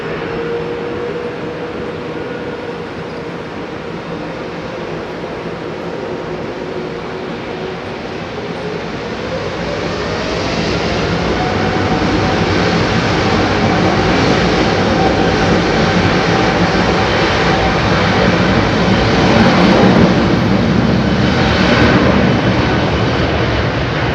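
An airliner begins its takeoff roll at Heathrow Airport after waiting for an intersecting departure, a loud, building engine roar that swells around the ten-second mark and holds steady, with a rising whine running underneath.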